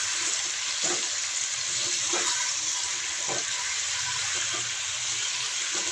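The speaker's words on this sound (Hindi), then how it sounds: "तो ऑयल के अंदर सबसे पहले जी मैं क्या करूँगी, मैं ये चिकन फ्राई करूँगी" Chicken fries in hot oil in a kitchen while a biryani is being prepared, a steady, hissing sizzle that runs throughout with occasional soft knocks and stirring sounds underneath.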